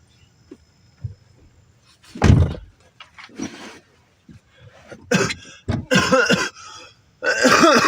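Several harsh coughs and raspy throat clearing in bursts, close and loud, with a few soft knocks and thuds between them.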